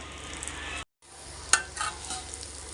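Taro root frying in a pan gives a steady broadband sizzle with a sharp clink near the middle, after a brief gap of silence, close and moderately loud with no voice.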